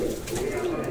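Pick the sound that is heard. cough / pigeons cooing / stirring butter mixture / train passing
pigeons cooing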